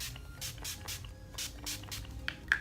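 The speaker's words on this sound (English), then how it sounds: "Going to finish it off with some setting spray." Several quick, soft hissing sprays of Urban Decay De-Slick makeup setting spray pulse in a row, close and faint.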